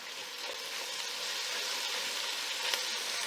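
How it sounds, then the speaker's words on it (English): Vegetables saute in a pot for pot roast, giving a soft, steady sizzle with a faint crackling hiss and no talk. "gonna give our veggies a little bit of a stir here and let them saute for a few minutes just until they begin to sweat"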